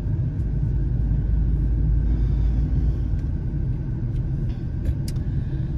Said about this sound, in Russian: Я медленно еду.